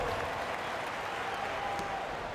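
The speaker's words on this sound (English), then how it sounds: "Give them another round of applause." Crowd applause in the NBA 2K25 basketball game, a dense, steady wash of clapping from a large arena audience that holds at an even level throughout.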